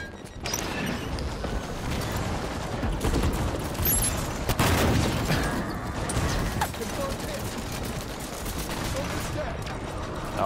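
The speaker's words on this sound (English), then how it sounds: "I got a rocket launcher and I really want to hit them with it" Halo 5 Warzone Firefight combat with a rocket launcher firing: dense, loud gunfire and a heavy blast near the middle, over a continuous rumble of battle noise.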